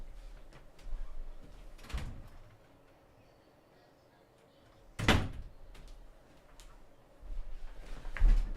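An office door is opened to let a cat in: a few hollow knocks and handling sounds, then a sharp bang of the door midway, followed by rustling and another thump near the end, with quiet stretches between.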